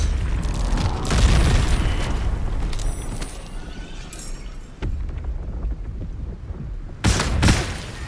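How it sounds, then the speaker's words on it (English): Heavy booming cannon blasts in Baldur's Gate 3, several deep thuds with crackling debris, one big burst near the start and another near the end. "Okay, shoot your little fucking cannons."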